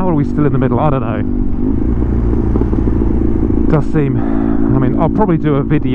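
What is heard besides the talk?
custom BMW R100 motorcycle riding on road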